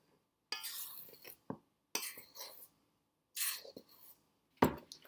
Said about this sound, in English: at this point we are going to gently mix all that together